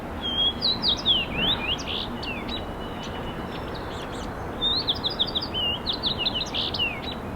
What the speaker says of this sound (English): let's get started with this fox sparrow, which is actually a pretty uncommon migrant in Massachusetts